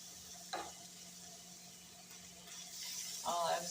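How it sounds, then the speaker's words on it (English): Frozen ground turkey cooks in a pan with a faint, steady sizzle, punctuated by a couple of brief scraping stirs, with a low hum in the background and no talking. "Some ground turkey cooking up here."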